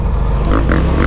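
A brief, loud, close roar from an RZR off-road buggy engine on a motocross track as another buggy overtakes, a dense low rumble with rising snarls.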